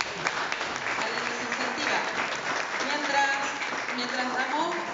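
Applause from an audience at a book launch event, steady clapping running throughout while a person speaks over it.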